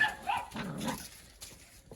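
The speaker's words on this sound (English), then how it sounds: "We got shop dogs everywhere." Shop dogs and puppies bark and yip inside a garage workshop, a few quick, moderately loud barks close by with some scuffling in between.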